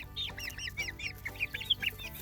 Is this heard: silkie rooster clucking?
yes